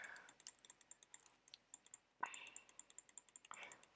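A mouse is clicked rapidly and repeatedly to feed an ocelot in Minecraft, making a fast, regular run of light close-up clicks, with a couple of soft swishy game sounds mixed in. Nobody speaks.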